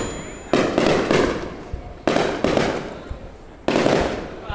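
A fireworks display for the 2023 celebration in Vĩnh Thuận district, Vietnam. Three loud volleys of rapid crackling bursts each last about a second, with short gaps between them.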